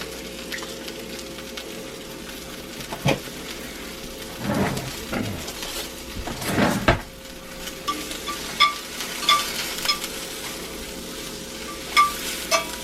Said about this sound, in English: the mushrooms I've got, I'm just sauteing these